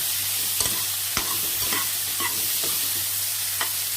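Brinjal sautés in hot oil for a prawn gravy, giving a constant close sizzle broken by several scraping stirs of a spoon against the pan.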